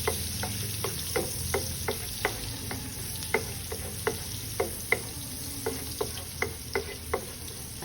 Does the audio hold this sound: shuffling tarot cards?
no